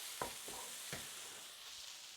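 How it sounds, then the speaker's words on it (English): Chicken mince frying in a pan gives off a soft, constant sizzle, broken by a few quick scraping stirs near the start, quiet and close with no voices. "Grace is just cooking chicken mince for her meal."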